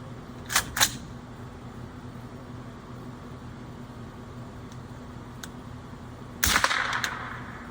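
A rifle fired with quiet Atomic ammunition while hunting in the woods; a couple of muted cracks close together, later a sharper mechanical clack of the action being cycled, over outdoor background hiss, no talk.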